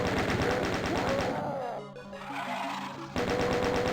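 Rapid chaingun fire in a Doom mod, Back to Saturn X, dense repeating shots that break off briefly mid-way then resume, loud and close amid game noise.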